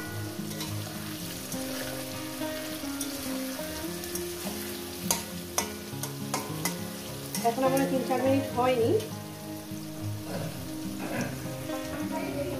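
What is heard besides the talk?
okra frying and being stirred in pan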